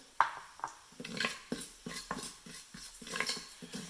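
Mustard seeds, cumin seeds and asafoetida tipped into an Instant Pot: a close string of light clinks and small taps against the metal pot, spaced irregularly, with no talking.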